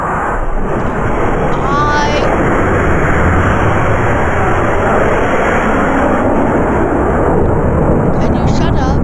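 A rocket ship engine roars without a break in the Roblox game Natural Disaster Survival, a loud, dense, steady rumble that fills the whole stretch with no pauses.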